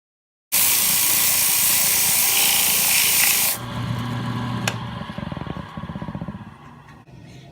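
A wood lathe spins up loud and close while a tool trims a wooden bowl, starting with a harsh, bright scraping hiss, then settling into a lower whirring hum with rhythmic cutting pulses that fade toward the end.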